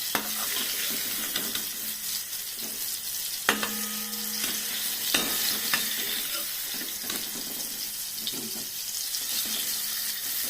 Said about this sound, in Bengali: এবার আমি বেগুনটা ভেজে নিচ্ছি শেষে